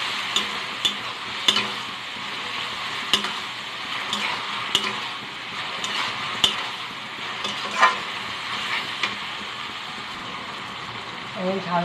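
Onion with ginger-garlic paste frying in a pan for capsicum chicken kosha, a steady close sizzle with repeated sharp scrapes and clinks of a spoon stirring against the pan.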